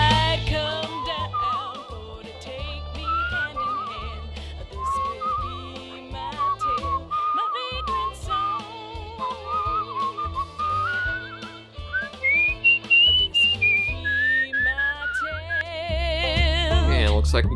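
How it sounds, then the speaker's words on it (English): A person whistles a wandering, melodic tune while walking along the East Coast, the notes clear and close, sliding up and down over steady footsteps and outdoor background noise. "do we want to do a little whistling while we walk?"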